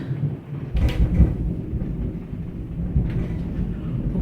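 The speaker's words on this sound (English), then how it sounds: "literally my house is shaking from this thunder" Heavy thunder strong enough to shake a house rumbles as a deep, continuous low roar, with a couple of sharper cracks breaking through and rain in the background. No one speaks.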